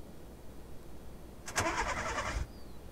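A car engine in the survival horror game Vein catches and starts after a push, a sudden burst of cranking that settles into a steady, fairly loud running rumble for about a second before cutting off.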